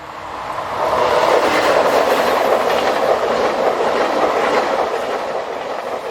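Locomotive 26151 hauls the EuroCity EC91 from Brussels to Zurich along a French main line, a loud, steady rolling rumble of wheels on rails that swells after the first second and holds continuously, with no voices.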